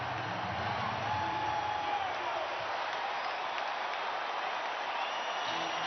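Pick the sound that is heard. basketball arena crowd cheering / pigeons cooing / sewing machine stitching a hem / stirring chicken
basketball arena crowd cheering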